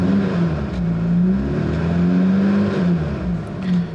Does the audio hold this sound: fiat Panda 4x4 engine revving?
yes